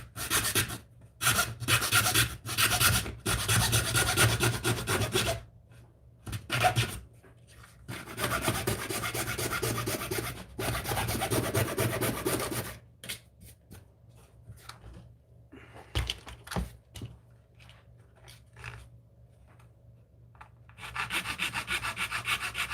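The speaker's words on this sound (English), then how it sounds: "Got a little hacksaw here with a bit of duct tape around it." Small hacksaw with duct tape wrapped around it cutting in a hobby workshop, close rasping back-and-forth strokes in bursts with pauses and quieter handling between.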